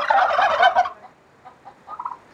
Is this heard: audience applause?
no